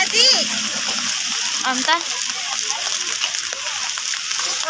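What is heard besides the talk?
rain splashing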